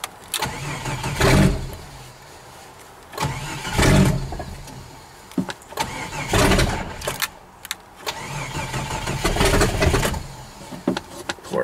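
A Stihl MS660 chainsaw idles roughly with no fast idle, as if not firing on all cylinders, its engine surging in uneven bursts and dipping between them, close and fairly loud with no talking.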